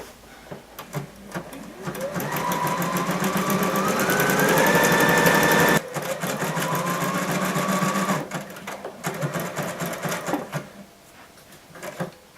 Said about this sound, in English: a small zigzag stitch with a really fun aqua thread to give it a little bit of pop of blue